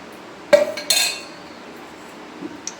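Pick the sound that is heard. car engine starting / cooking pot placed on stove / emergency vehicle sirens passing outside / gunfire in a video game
cooking pot placed on stove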